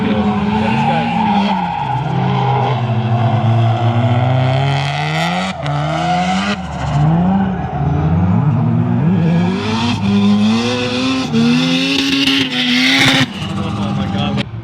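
Drift cars run tandem on a track, one of them a BMW, with loud sustained engine roar and tire skidding throughout, the pitch rising and falling as they slide; people talk over the noise.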